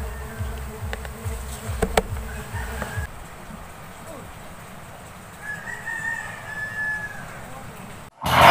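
Stingless bees buzz steadily around an opened colony during a honey harvest, a close insect hum under outdoor background noise, with a rooster crowing faintly in the distance and a muffled thump at the end.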